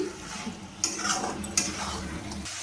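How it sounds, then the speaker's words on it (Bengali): Masala chicken being sautéed in a pan, continuous sizzling under spoon scrapes and a couple of sharp metal clanks against the pan, close and unaccompanied by talk. "আমি মাংসটাকে ভালোভাবে কষিয়ে নিচ্ছি।"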